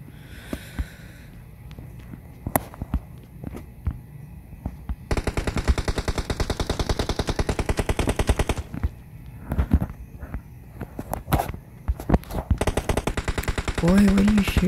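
Video game gunfire in a pistol-and-crossbow challenge: sharp single shots and rapid automatic bursts crackle loudly in clusters, with quieter gaps between volleys.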